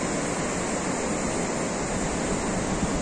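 Sea waves on a beach at Playa Las Glorias, Guasave, Sinaloa, make a steady, loud rushing wash of surf, with breeze blowing across the microphone.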